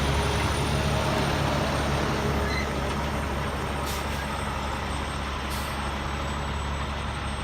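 A big truck turning around near a beach walk gives a loud, continuous engine rumble and a broad air-brake hiss that runs steadily through the whole stretch.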